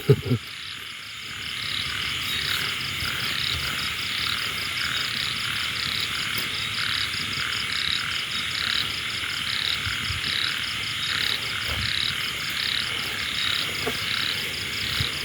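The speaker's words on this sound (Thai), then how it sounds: "เรียกว่ากบเหมือนกัน" Frogs croak steadily at night during frog hunting with hooks, a dense chorus of overlapping calls mixed with insect trilling and crickets, continuous and fairly loud throughout with a few brief knocks.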